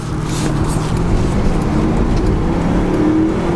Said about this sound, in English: Hit the gas pedal down here in just a second and really mash it